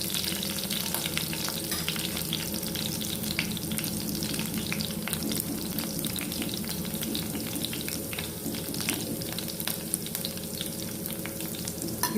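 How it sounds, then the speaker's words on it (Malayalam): Cumin seeds and curry leaves sizzling in a hot pan, a dense, steady crackle with rapid pops running the whole time, close and loud, with a low background hum. "ചൂടായ പാനിലേക്ക് നമുക്ക് ജീരകം ഇട്ട് കൊടുക്കാം."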